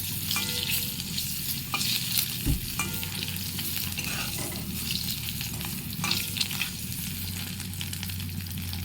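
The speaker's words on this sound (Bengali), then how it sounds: "মেয়ের আর আমার ডিমটা একটু ভেজে নিচ্ছি হালকা" Boiled eggs lightly frying in a pan, with a continuous close sizzle and occasional stirring and scraping clatter throughout, with no talking.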